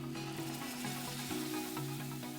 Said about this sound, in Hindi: लगभग 1 मिनट इन मसालों को भून कर फिर मैंने यहाँ पर डाला है अपना टमाटर का पेस्ट